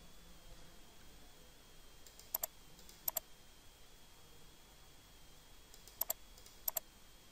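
Computer mouse button clicks in a quiet room during drafting software use, four faint, crisp double clicks spaced apart over a low steady background hiss.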